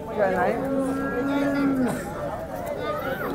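At a cow market in Sangola, a cow gives a long, close, drawn-out moo against a murmur of background voices and crowd noise.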